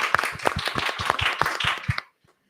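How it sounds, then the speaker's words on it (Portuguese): Audience clapping at a drag pageant talk show, a close, fairly small crowd clapping in quick rhythmic bursts that stops abruptly and leaves near silence. "Aplauso, Babo."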